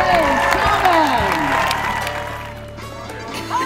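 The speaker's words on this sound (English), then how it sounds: "A round of applause for Jamie Ray Sullivan." Crowd applause for a player at Oregon softball senior day, outdoor clapping and some cheering in the stands at moderate distance, mixed with tonal crowd sounds and fading slightly toward the end.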